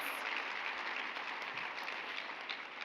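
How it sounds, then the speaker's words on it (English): A banquet audience at a conference awards dinner applauds steadily, a soft, distant wash of many clapping hands that holds evenly throughout. "If you just give them a round of applause"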